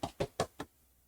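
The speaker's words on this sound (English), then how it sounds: "Someone knocked on my door while I was recording." Four sharp knocks on a door in quick, even succession, fairly close and clear, then quiet room tone.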